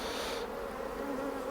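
Bees buzz steadily at an opened beehive, a dense continuous hum heard close and alone without any talking.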